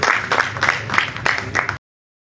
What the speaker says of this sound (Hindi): तालियों में